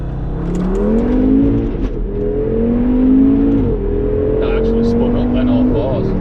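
Tuned Audi RS3 8P with a stage 1 remap making 420 bhp, accelerating hard in first gear up a road, its engine note rising loud and close with a steady climbing drone before the shift.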